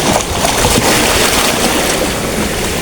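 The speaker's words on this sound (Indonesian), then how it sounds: "Ombak besar ini." Big waves and strong wind at sea on a fishing boat: a loud, steady broadband roar of surf and gusting wind buffeting the microphone, continuous throughout.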